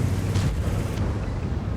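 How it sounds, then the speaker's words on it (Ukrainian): A heavy tank cannon blast in World of Tanks booms with a low rumbling tail, followed by steady low engine drone and game ambience. "Гарний постріл"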